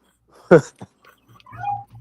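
A dog gives a short yelp followed by a softer whimper and then low whining, close by, with a little faint background noise.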